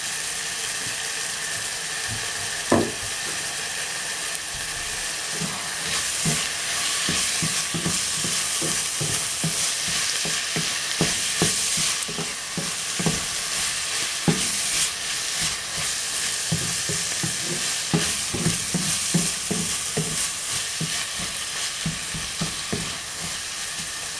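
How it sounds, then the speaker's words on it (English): Bolognese sauce with a tablespoon of Maggi seasoning sizzles and fries in a pan while a spoon stirs it with steady scraping strokes, close and continuous, with no talk. "Keep stirring it."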